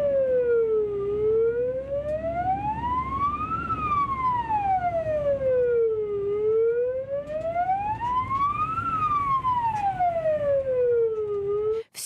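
Ambulance siren wailing loudly in a continuous rising and falling sweep, with a police patrol car following behind, steady and close throughout with no talk.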